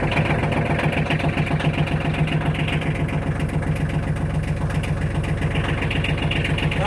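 A Kubota L2900 tractor with a Curtis cab, unstarted for weeks, idles with a steady, even diesel thrum, close and loud throughout, with no voices.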